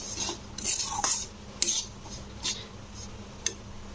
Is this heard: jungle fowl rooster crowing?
no